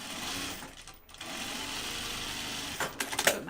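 A sewing machine stitching a fabric pocket bucket, a steady close mechanical whir running through most of the stretch with a brief dip, then a few clicks and handling knocks near the end.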